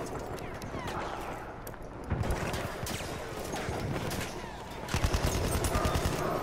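Battlefield gunfire crackles in rapid bursts and scattered shots amid battle noise, with louder volleys at intervals and voices speaking over the din.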